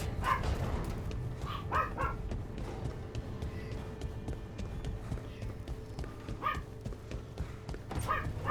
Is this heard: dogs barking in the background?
yes